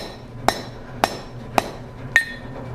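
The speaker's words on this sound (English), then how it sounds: "I'm just going to use my regular hammer" A regular steel hammer strikes hot steel while a fire poker is forged, four sharp ringing blows spaced about half a second apart, close and loud against quiet workshop noise.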